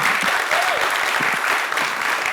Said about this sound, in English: Let's say this has to be the loudest round of applause